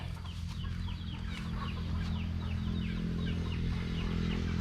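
Chickens cluck repeatedly, fairly close, over a steady low rumble in an open field at evening, with no talking.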